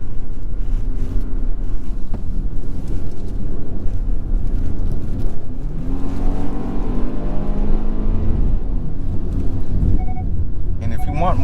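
Engine of a 2023 Kia Sportage LX with an 8-speed automatic, a steady loud cabin rumble that rises and shifts in pitch midway as the transmission changes gear, heard from inside alongside road noise.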